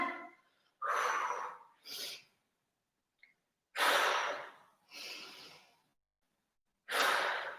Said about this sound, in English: Big, deep breaths, keep going